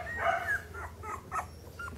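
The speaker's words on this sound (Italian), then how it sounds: "vedi questo cucciolo vicino là" A small puppy at a dog breeder's kennel yips and barks in short bursts with a whimpering tone, several quick high calls close by, no voices over it.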